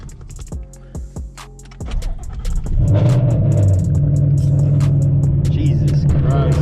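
A tuned car engine cranks in a few sharp bursts before catching and settling into a loud, steady, close rumble that holds to the end.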